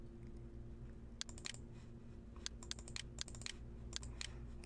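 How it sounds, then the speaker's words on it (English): Typing on a computer keyboard at a cash register point-of-sale station, a few quiet, irregular clusters of key clicks over a low steady hum, faint and close. "Okay, I'm going to type something."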